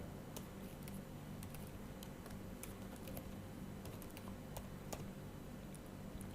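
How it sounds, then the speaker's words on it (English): Faint, rapid clicking of keys on a computer keyboard as a git command is typed, the soft taps scattered irregularly over a quiet background. "Git config global user.email, and then you type in your email"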